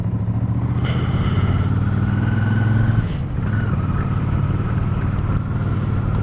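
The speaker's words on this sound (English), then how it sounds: "If this car isn't too slow" A car on a road near Snowdon passing close by, a loud continuous engine rumble and tyre roar with a steady drone that shifts in pitch midway as it goes past.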